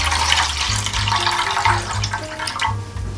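Rice water for spinach soup, about one and a half litres, pours steadily into a pot, a continuous splashing stream with gurgling swells and a few brief breaks in the flow.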